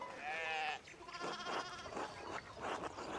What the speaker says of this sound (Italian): una parte della staccionata è caduta e le pecore sono uscite dal recinto